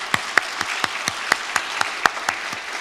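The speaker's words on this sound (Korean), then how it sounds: "우리 박수 한번 다시 한번 이럴 때." Church congregation claps during a Sunday service, giving a round of applause; a modest, fairly sparse patter of distinct hand claps in a roomy space, with no talking.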